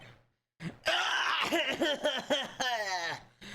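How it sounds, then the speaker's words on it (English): A character in an Ace Attorney video game clears the throat, giving a few choppy, gravelly rasps that build into a rough, voiced ahem, close and loud after a brief silence. "Maybe I should clear my throat?"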